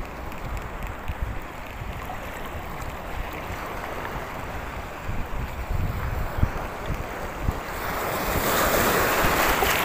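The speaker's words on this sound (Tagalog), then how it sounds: "Laki ng alon eh." Big ocean surf breaking on a rocky shore, a steady roar of crashing waves with gusty wind buffeting the microphone, swelling louder toward the end.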